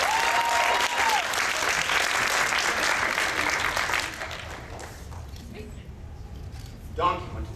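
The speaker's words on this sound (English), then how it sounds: "Give Ken a round of applause" Applause from a convention audience for a participant in a voice-acting lesson, a dense steady clapping that fills the room, fades about halfway through, and leaves room noise with a brief voice near the end.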